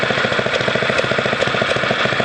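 A go-kart's small engine keeps idling with the fuel shut off, a rapid steady chugging putter close to the mic, loud and continuous with no speech over it.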